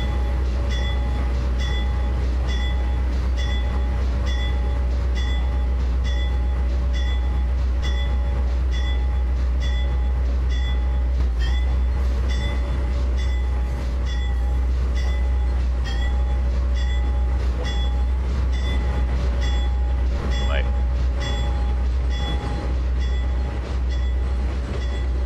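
An Amtrak passenger train near Denver in a train simulator game rolls along with a deep steady engine drone, rhythmic wheel clicks over rail joints and brief squeals, a continuous cab-level sound without voices.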